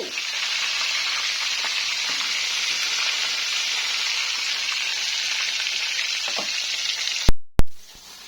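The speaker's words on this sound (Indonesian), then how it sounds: "Ini pentolnya nih digoreng." Pentol meatballs frying in hot oil give a steady, loud sizzle and crackle for several seconds, then the sound cuts off abruptly near the end, with no voices.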